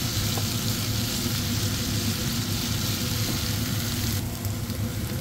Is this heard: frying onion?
yes